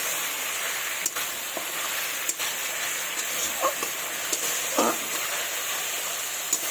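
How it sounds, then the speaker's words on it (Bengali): Masala frying with salt and turmeric gives a soft, steady sizzle close by, broken by a few light clicks and scrapes of stirring, with no talking. "দিয়ে ভালোভাবে মশলাটাকে কষিয়ে নিচ্ছি।"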